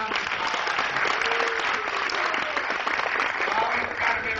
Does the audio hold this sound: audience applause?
yes